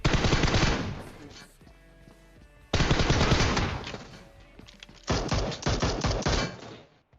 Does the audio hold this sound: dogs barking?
no